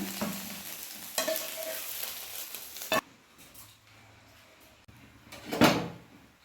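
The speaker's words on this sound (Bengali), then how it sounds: "এবার ডিমের গোলাটা দিয়ে আমি ভুজিয়া ডিমের ভুজিয়া তৈরি করে নেব" Beaten egg frying and being stirred into egg bhujia in a pan, a soft sizzle with scraping spatula strokes, a sharp clatter midway and a louder scrape near the end, fairly quiet and without speech.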